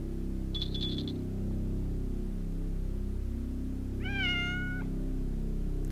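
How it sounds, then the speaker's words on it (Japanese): A cat meows in the horror game Otogirisou, two short synthetic-sounding mews, one brief and one longer, over a steady low droning game soundtrack. "どうせまた猫でしょ。"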